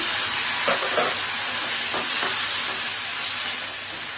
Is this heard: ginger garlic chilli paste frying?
yes